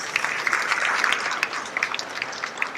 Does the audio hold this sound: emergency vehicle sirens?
no